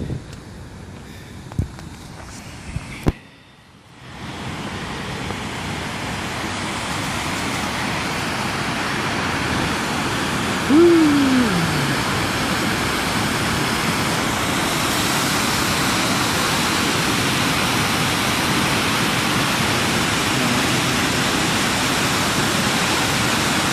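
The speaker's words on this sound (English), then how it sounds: "Edge of the falls" A waterfall at Bragg Creek rushes with a steady, broad roar that fills the scene after a brief shuffling start, loud and continuous with no talking.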